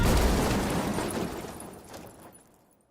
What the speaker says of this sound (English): Isn't it great when they end with a big explosion?